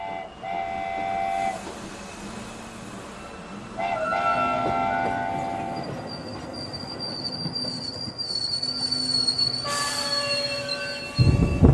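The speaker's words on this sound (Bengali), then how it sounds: "ট্রেনটা যখন চণ্ডীপুর স্টেশনে থামল" A train pulls into a station: wheels squeal in sustained high tones over rumbling carriages, several whistle or horn notes sound, and a loud clank comes at the end.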